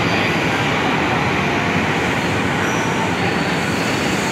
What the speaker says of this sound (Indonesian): ini kereta yang ke Jakarta Kota ya, Francis.